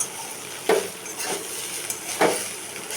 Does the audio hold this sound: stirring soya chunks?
yes